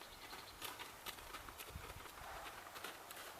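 A horse trots around an arena doing trot-to-stop transitions, its hooves giving a steady, fairly even clip-clop under a constant wash of broad background noise, with no talking.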